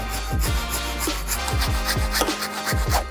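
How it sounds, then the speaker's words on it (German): A hand saw cutting notches into wood for a DIY living-room projector build, steady back-and-forth rasping strokes close by, around a dozen in quick rhythm with no talking. "Die sägen wir jetzt auch einmal aus."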